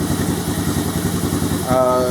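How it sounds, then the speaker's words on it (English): A Honda Recon ATV engine idles steadily after a carburetor install, a close, even mid-pitched putter, with someone talking briefly near the end. "It's warming up. It's idling good."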